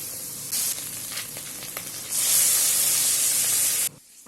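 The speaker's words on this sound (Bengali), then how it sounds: "প্রথমে দেখো কড়াইয়ে তেল গরম হয়ে গেছে মাছগুলো দিয়ে দিয়েছি" Fish sizzling in hot oil in a wok, a steady crackling hiss that swells louder midway and cuts off abruptly near the end, with no talking.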